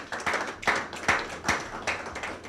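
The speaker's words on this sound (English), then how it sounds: "Give me a round of applause." Audience applause at a government board inauguration ceremony: a modest, fairly faint round of clapping with distinct individual claps in an uneven rhythm, heard at a distance.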